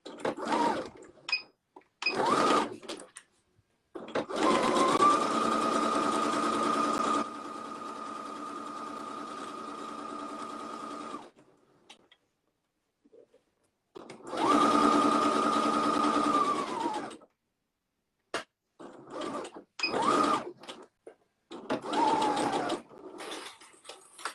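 A sewing machine stitches forward and back along a fabric edge about 1 cm in, sewing a cuddle kit. It runs in two long bursts with short stops and softer handling noises between them, close and loud.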